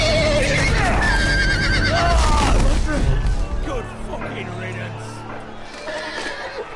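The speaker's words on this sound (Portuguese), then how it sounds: "Olha o cavalo, coitado do cavalo." A horse in a Game of Thrones video game lets out loud, shrill whinnies amid combat clatter and thuds, then the noise drops to a quieter rumble, with people talking over it.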